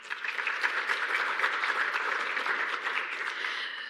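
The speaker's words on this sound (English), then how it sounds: "So please, let's give a round of applause to the World Bank Group" Steady, dense crowd applause fills the room at a climate resilience symposium, a continuous round of clapping from a sizeable audience held at even loudness throughout.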